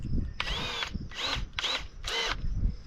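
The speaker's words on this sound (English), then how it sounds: "I'm going to drill a little pilot hole through these first with an 1/8 inch bit," An 1/8 inch bit drills a pilot hole through scrapyard steel I-beam pieces, four short whining bursts from a power drill separated by brief pauses, close and loud.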